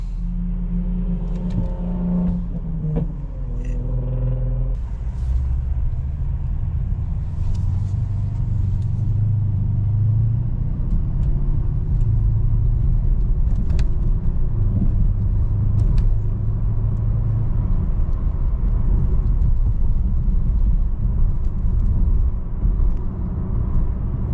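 A 2012 Mercedes CLS 550 4Matic with a stock V8 bi-turbo engine runs with a deep, loud, steady rumble, after a brief rising tone early on, then holds a constant low drone close by.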